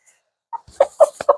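Chickens give several short, close clucks in quick succession after a brief quiet start, with no talking.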